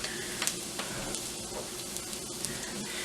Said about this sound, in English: since this is olive oil and it's preheated, so you want that sizzle